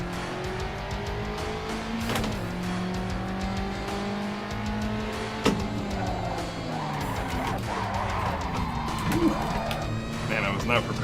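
Car tires skid and squeal under hard braking in the racing game Assetto Corsa, with a steady engine drone and sliding tire tones over about eleven seconds, sharp spikes near the start and middle, and a voice talking faintly underneath.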